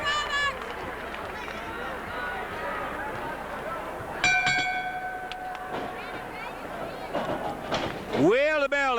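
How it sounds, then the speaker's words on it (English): A ring bell at a Memphis wrestling tag match clangs with a sustained ringing tone partway through, set against a buzzing arena crowd and a live audience hubbub. "the bell indicates that we're off and running here with another of the big tag matches"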